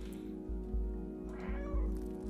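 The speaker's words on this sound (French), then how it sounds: "C'est le chat magique, il miaule." In the video game Stray, a cat gives a drawn-out meow that wavers in pitch, heard clearly over a looping, pulsing game soundtrack with low rhythmic thumps.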